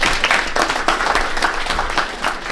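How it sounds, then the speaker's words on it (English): Steady crowd applause fills a lounge reception, with continuous dense clapping at fairly close range for the full stretch. "Big round of applause for Travis."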